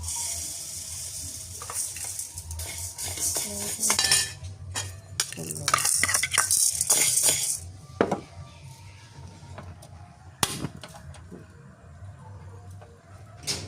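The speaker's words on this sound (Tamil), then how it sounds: "பயரையும் வறுக்க தான் வேணுமே" Gram (chickpeas) being stirred and roasted in a pan for a traditional health-flour mix, with irregular scraping and clinking of a utensil against the pan, close and moderately loud.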